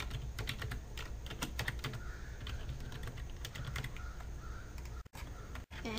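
Typing on a computer keyboard to enter a username and password, a quick run of light clicky keystrokes close to the microphone with a faint background hum and no talking.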